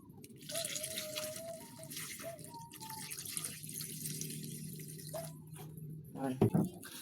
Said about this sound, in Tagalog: Siyempre lalagyan na natin ng tubig.